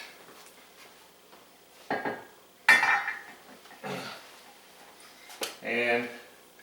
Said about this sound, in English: Get that lid off.